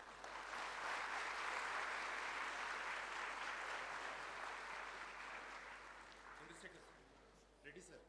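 An audience at a formal ceremony applauds to welcome dignitaries, with sustained, dense clapping that holds steady, then gradually thins and fades toward the end.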